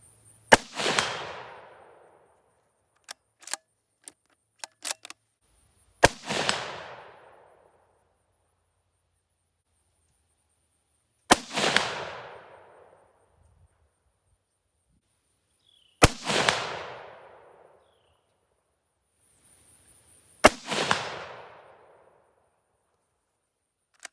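A Ruger American Ranch rifle fires five loud, sharp shots about five seconds apart at a steel plate hung on T-posts roughly 100 yards away by a pond. Each crack has a ringing, decaying tail, with a few faint clicks between shots.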